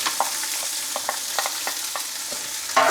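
Onions frying in a little tallow in a pan, giving a close, continuous sizzle broken by light scraping stir strokes, with a louder burst of sputtering near the end.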